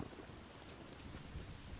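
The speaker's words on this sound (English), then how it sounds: "And it's raining." Rain and thunder in the video game Ocarina of Time, Kakariko Village: a steady, dense hiss of rainfall with a low rumbling undertone, continuous and moderately quiet throughout.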